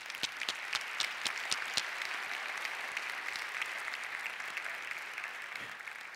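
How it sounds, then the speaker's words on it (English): A conference audience gives a sustained round of applause, with a dense, even wash of clapping and a few sharp claps standing out early, heard at a moderate distance and fairly quiet overall. "I have to give her another round of applause"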